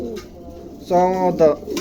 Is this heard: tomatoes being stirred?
no